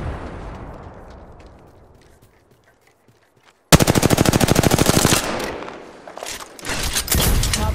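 Rapid automatic gunfire in the video game Apex Legends erupts after a quiet stretch, a loud close burst of fast regular shots followed by further bursts and scattered reports.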